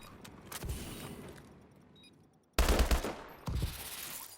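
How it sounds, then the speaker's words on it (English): Gunfire bursts through a wall in a tactical shooter video game, starting with a short rattle of shots. After a lull, a loud sustained volley follows and a second burst comes close behind. "Actually shoot through that wall."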